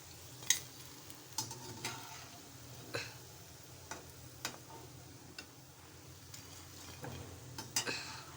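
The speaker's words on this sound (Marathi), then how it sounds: "आपली भेंड्याची भजी छान तळून झालेली आहे तेलामध्ये" Low, steady sizzle of okra fritters frying in oil with occasional utensil clicks and taps scattered throughout; no voices.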